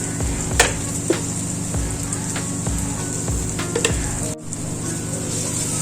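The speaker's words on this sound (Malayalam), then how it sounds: "ഇളക്കി കൊടുത്ത് ആ പൊടിയുടെ പച്ചമണമൊക്കെ ഒന്ന് മാറണം." Chili, turmeric and coriander powder are stirred in a hot pan for a cucumber and cowpea curry, a steady sizzle of frying with soft, periodic scraping strokes of a spoon and a brief clink, no voices.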